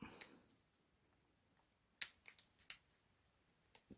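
Sharp snips from cutters trimming support material off a 3D printed art toy, a quiet cluster of clicks in close succession after a lull, with a lone faint snip near the start and another at the end.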